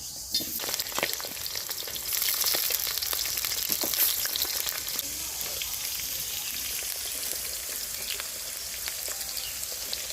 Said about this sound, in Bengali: প্রথমে আমি আলুগুলা ভাজে নেই।